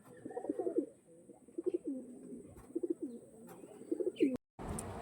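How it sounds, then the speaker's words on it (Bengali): Andhra pigeons give four distinct, rhythmic bursts of rolling coos at close range, each phrase rising and falling. A sudden brief dropout near the end gives way to broadband noise. "একদম অরিজিনাল আন্ধ্রা পায়রা"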